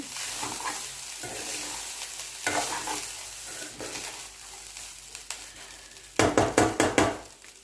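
Ajwain rice (vamu annam) being mixed in a pan, a continuous gentle frying hiss with bursts of stirring, ending in a quick run of scraping spoon knocks, close and alone.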